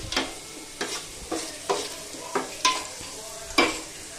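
Garlic frying in hot tempering oil for a Gujarati muthiya dhokla dish, with a soft background sizzle broken by about seven regular scraping stirs of a spoon in the pan, close and fairly quiet.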